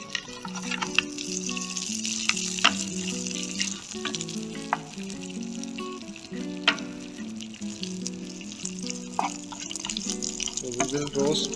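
Dry fruits sizzle and fry steadily in melted clarified butter for a Kashmiri pulao, with crackling pops and occasional stirring clinks throughout.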